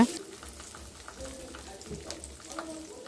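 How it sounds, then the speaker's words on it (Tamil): Baby potatoes frying in oil for a spicy Chettinad potato fry, giving a soft, steady close sizzle with light bubbling crackles throughout. "சேர்த்துட்டு எண்ணெயிலேயே நல்லா ஃப்ரை பண்ணிடுங்க."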